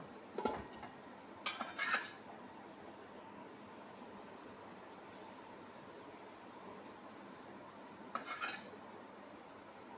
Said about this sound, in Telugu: అన్నీ వేసేసి ఈ విధంగా కలపాలన్నమాట